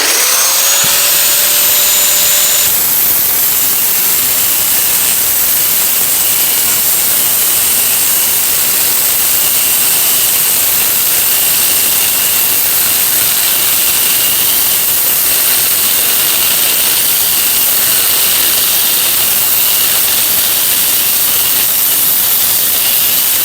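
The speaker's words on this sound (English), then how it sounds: "I was cutting a bunch of stuff with this grinder" Corded angle grinder cutting through F600 truck frame brackets outdoors on a lawn: a loud, steady high-pitched whine and hiss that runs continuously, with a brief rising spin-up at the start and no voices.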